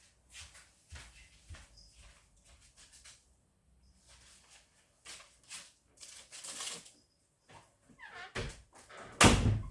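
Several sharp knocks and handling noises, ending in a loud, close door slam.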